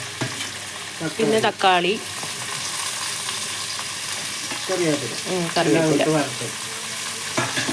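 Shallots, chilies, tomato and curry leaves sizzle and crackle in hot oil for a fish curry, with a steady frying hiss and occasional stirring, while someone speaks over it in short bursts.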